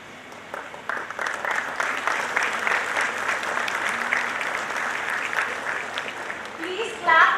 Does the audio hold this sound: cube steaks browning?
no